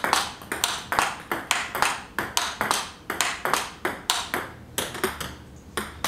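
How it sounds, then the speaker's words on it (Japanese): Table tennis ball struck repeatedly on a soft German-made rubber in forehand rallying, giving sharp metallic pings in a steady, even rhythm, close and clear with no talk. "コア打ちの金属音を比較してみます。"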